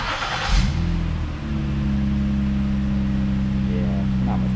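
A Ford 3.5 V6 with its mid pipe muffler replaced, rear mufflers and muffler tips still fitted, cranks briefly, catches and settles into a steady, loud, close idle with a smooth low hum, no talk.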